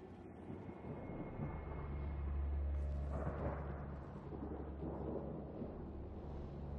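Storm thunder in Mass Effect Andromeda, a faint, deep rolling rumble that swells to a peak midway and then slowly trails off into a low, lingering murmur.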